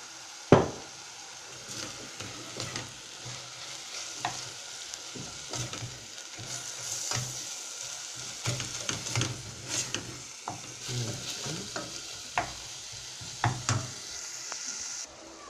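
A chicken and potato omelette mixture sizzles steadily in a pan, with frequent scraping and stirring knocks from a utensil and a sharp clack near the start; no one speaks.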